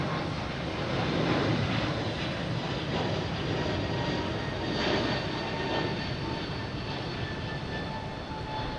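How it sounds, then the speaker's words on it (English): A JetBlue airliner taxis out at Boston Logan Airport, its engines giving a steady broad roar that holds evenly from a moderate distance, with no voices. "We got a JetBlue sneaking out here, which didn't show up on the radar"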